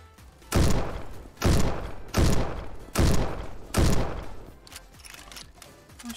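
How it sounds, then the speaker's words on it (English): Video game gunfire fired into the ground, five heavy booming shots spaced roughly evenly about a second apart, each with a short rumbling tail. "I'm shooting in the ground."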